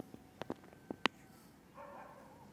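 Dogs bark at night, a few sharp separate barks spread over the first second, with one louder bark near the middle, followed by a faint, steady hum.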